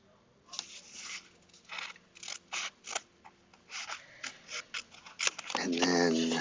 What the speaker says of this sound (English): so this will get cut on this line right here